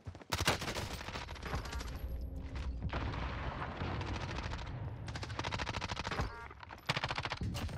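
Rapid automatic gunfire from the RAM assault rifle in Call of Duty: Modern Warfare Warzone, Season 5: loud, dense bursts of shots with brief gaps, close and continuous across the whole stretch.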